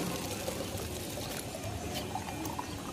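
Water pours into a plastic bottle with a steady, close gurgling flow and small splashes, continuous and fairly quiet throughout.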